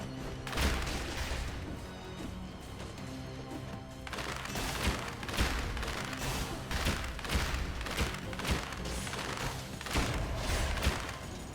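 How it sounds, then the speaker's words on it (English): Turrets firing in the video game Dead Cells, a dense, continuous barrage of rapid crashing shots and thumps, loud and steady throughout with no voices. "turrets are doing a lot of good damage, a lot of good work"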